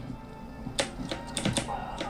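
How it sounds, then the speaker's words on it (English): A handful of sharp, clacky key presses on a loud Alfawise V2 RGB mechanical keyboard with blue switches, irregular and close, over a faint background hum. "The blue keys are a bit loud."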